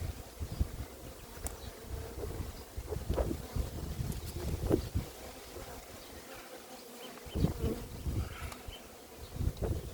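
Bees buzzing around a beehive left unopened for nearly a year, a dense, continuous droning hum close to the microphone, with individual bees flying past and light wind noise.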